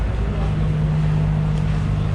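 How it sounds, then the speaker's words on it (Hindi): A passenger ferry pulls away from the Malé ferry terminal, bound for Hulhumalé, with a steady low engine rumble and hum that holds throughout, mixed with wind buffeting the microphone. "वो फेरी वापस अब पैसेंजर्स को लेके जा रही है हुल माले"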